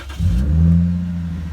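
A 2009 Lexus IS 250 engine fires up close by and revs, a deep steady rumble with rising harmonics that holds a smooth idle after starting, no voices present.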